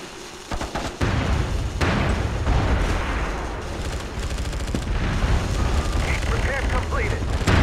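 Artillery fire mission of sensor shells in the video game MAG, a dense, continuous roar of booming impacts and rumbling blasts, loud and sustained throughout, with game voices over the din.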